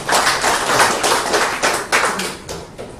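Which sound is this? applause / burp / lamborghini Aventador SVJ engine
applause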